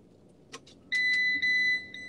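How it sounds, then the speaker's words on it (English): A van's seatbelt warning chime sounds with the vehicle in drive, a few short beeps followed by two long, steady high tones, close and clear with no one talking. "You hear that sound? That beeping? How do I get that beeping to stop? Seatbelt."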